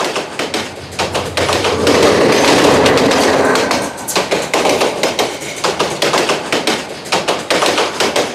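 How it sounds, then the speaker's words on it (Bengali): A train rolls in close by at a risky village crossing, with a loud rumbling roar and a rhythmic clickety-clack of wheels over rail joints, the clatter continuing steadily. "ঢুকছে ট্রেন ঢুকছে দেখেন ট্রেন দেখান"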